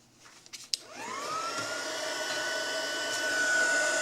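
Heat gun on its lowest setting drying a coffee filter flower, a steady close whine that rises to a constant pitch and holds, after a few brief handling knocks at the start.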